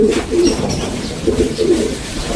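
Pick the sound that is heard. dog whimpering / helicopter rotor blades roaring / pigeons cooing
pigeons cooing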